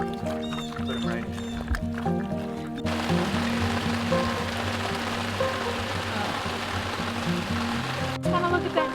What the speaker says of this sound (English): It's not raining too hard